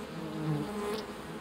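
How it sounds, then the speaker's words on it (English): Honeybees buzz close by in a short, steady drone that swells briefly and then eases off. "The humble honeybee is the most widespread bee in the world today."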